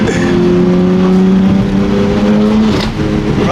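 A Nissan R33 Skyline GTR burbles and drones loudly from its exhaust in a steady, throaty tone, heard up close for a few seconds without talk.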